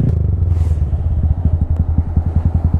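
A motorcycle ridden through snow, its engine loud and close with a rough rhythmic chugging that speeds into rapid pulses as it labours, mixed with scraping clatter and no talk.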